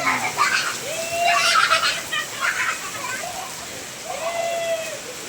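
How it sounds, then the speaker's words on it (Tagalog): Heavy rain pours and splashes steadily while children shout and chatter excitedly over it. "Ang lakas ng ulan."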